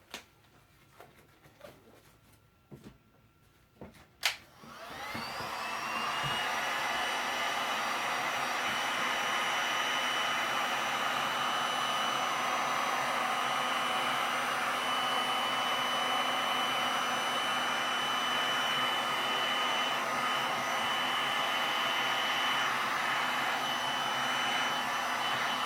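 A heat gun warms poured resin art made with metallic pigments. A few close clicks and taps come first, then a loud, steady blowing whoosh starts and runs unbroken to the end.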